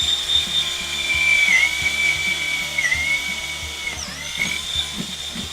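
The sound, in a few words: electric drill drilling holes in wood cornhole board leg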